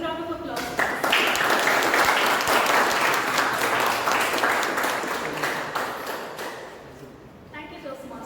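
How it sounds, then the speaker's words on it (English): Applause at a Toastmasters meeting, probably heard through an online call, rises suddenly after a voice, holds as dense clapping for several seconds, then fades out before speech returns. "A big round of applause."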